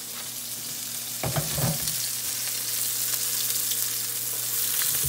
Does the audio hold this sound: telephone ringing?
no